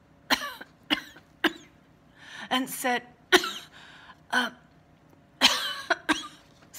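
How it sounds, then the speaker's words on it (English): A series of harsh coughs, about eight bursts spread unevenly, close and fairly quiet, with a few words spoken among them. "started to cough"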